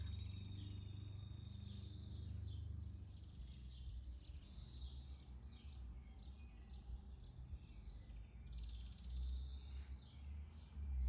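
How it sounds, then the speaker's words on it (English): Many swallows chirp and twitter in a busy, overlapping chorus, steady throughout, over a low background rumble outdoors in central Portugal. "And there's like a million swallows."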